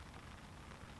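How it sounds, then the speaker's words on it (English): Rain falls steadily on an early morning at a fishing lake, a soft, even hiss of drops with no pauses, faint and distant with no voices. "Early morning it started raining, you can probably hear it"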